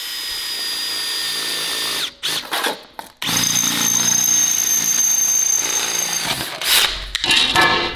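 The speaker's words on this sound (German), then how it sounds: "Ich hole mal einen Akkuschrauber." A cordless drill bores a hole for a power-steering mount on an RS4 saloon, loud high whine with short stop-start bursts before a long steady run, close by.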